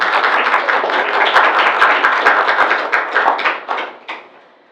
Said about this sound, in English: Yes, let's applaud them.